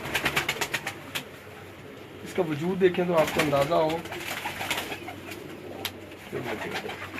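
Pigeons of a prized long-flying breed, including a female, coo in soft, rolling low phrases from a loft, the sounds mixing with a voice talking over them through most of the stretch.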